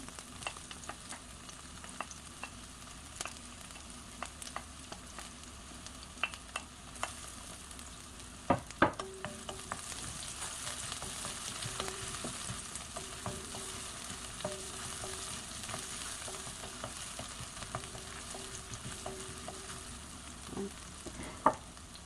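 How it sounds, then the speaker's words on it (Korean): Garlic and scallions stir-fry in a pan with a soft, steady sizzle, faint and fairly distant, dotted with light taps and scrapes of a spatula. "마늘이 또 어느 정도 볶아졌으면 또 파."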